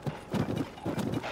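Horse hooves in the video game The Legend of Zelda: Tears of the Kingdom clip-clop in quick rhythmic groups of muffled thuds, a galloping pattern heard up close with no talk over it.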